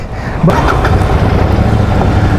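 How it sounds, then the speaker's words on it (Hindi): A Royal Enfield Super Meteor 650 motorcycle engine rumbles steadily at close range, with a sharp rise at the start as it catches and then settles into a loud, even idle. "और जब स्टार्ट होती है ना ये, ओ हो क्या आवाज़ आती है इसमें से।"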